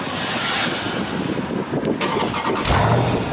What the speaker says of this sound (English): I'm going to hit this button right here for an auto start.